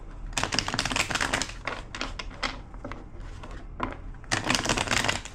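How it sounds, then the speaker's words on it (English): A deck of tarot cards is shuffled in quick riffling bursts, crisp rapid flutters close by with brief pauses between runs. "2 more shuffles."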